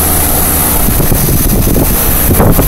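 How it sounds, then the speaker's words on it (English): An aging 1990 Tempstar 2.5-ton heat pump runs in cool mode outdoors on a hot day, its condenser fan producing a loud, steady whooshing roar with buffeting, wind-like rumble up close. "But here's this old thing. Condenser fan is spinning."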